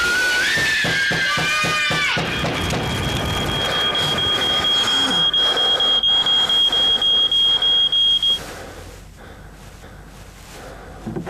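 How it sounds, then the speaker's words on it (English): A smoke alarm sounds in a TV advert, a piercing high continuous tone that breaks into rapid pulsing beeps and stops, following a stretch of music and chimes. "When your smoke alarm goes off, make sure you know what to do."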